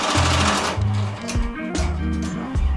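An EMT16X embroidery machine stitches a design onto the back of a hat, running in fast bursts of rhythmic needle chatter with short pauses and shifts in pitch between runs.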